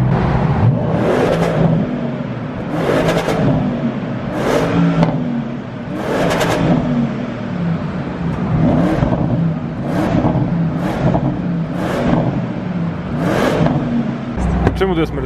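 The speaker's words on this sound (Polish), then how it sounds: "Zobaczymy jak niesie się wydech i jego dźwięk tutaj w tym tunelu." Porsche Panamera exhaust echoing in a tunnel at night, a loud engine rising and falling in repeated revving bursts, heard from inside the car with occasional voices underneath.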